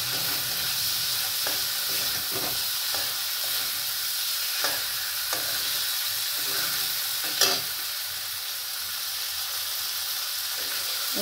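Spice masala sautés in hot oil for a hilsa fish curry, giving a continuous loud sizzle and hiss with periodic scraping strokes of a spatula against the pan, and no talking.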